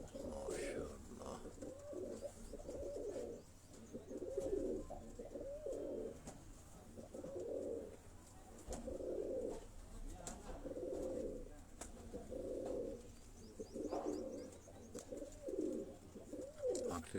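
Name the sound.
Kasuri bloodline pigeons cooing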